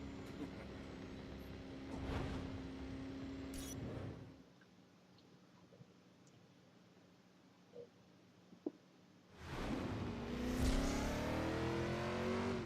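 A powerful car engine revs hard in the driving game Driver: San Francisco, roaring loudly at first, dropping to a quiet idle hum for several seconds, then surging back into a loud, climbing rev.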